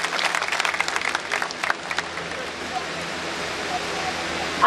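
Audience applause welcoming guests at a public event in the border village of Kalyanpur, a brisk burst of clapping for about two seconds that quickly fades into a hissing background murmur.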